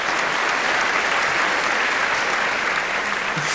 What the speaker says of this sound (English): Thank you very much for the round of applause